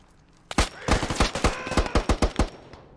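Rapid gunfire in the video game Squad: a loud burst of about a dozen sharp shots in an uneven quick rhythm, starting after a brief quiet lead-in and continuing to the end.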